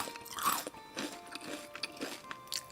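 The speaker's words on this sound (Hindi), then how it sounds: "इसके लिए वो अपना ध्यान वेफर्स चबाने" Wafers being crunched and chewed up close, a series of crisp bites and crunches in an uneven rhythm, with no talking.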